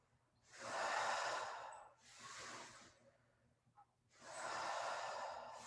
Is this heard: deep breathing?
yes